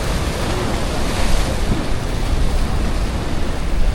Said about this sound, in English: That's some big waves.